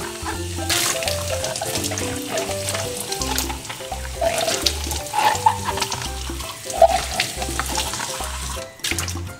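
A baby bottle is rinsed under a running tap, steady splashing water over a sink with a rhythmic low thumping underneath, loud and close with no voices.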